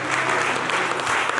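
A church congregation applauding steadily throughout, dense and close, with a murmur of voices beneath the clapping.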